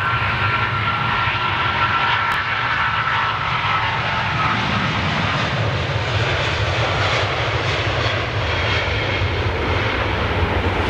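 An airliner at London Heathrow airport, a loud, steady, broadband engine roar that stays at full strength without a break, heard close by.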